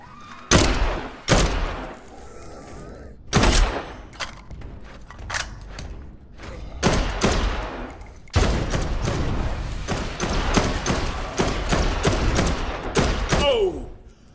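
Repeated bursts of gunfire from the zombie game Dead Island 2, with loud shots spaced irregularly at first and then a longer sustained stretch of rapid firing.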